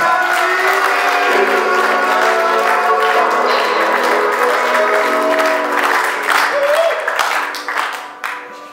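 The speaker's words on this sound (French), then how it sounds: "on peut faire aussi un tonnerre d'applaudissements pour la directrice de la Pradeaute" Cabaret audience at a holiday resort show in Mont-Dore gives thunderous, sustained applause over a lingering musical tone, clapping mixed with crowd noise that stays loud before thinning out at the end.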